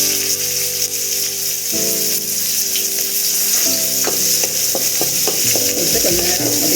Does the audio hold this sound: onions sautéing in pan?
yes